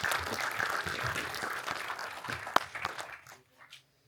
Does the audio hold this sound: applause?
yes